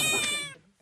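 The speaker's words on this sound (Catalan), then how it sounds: "Un gat mig mort" A single cat meows once, close and loud, a clear, tonal cry that fades away within about half a second.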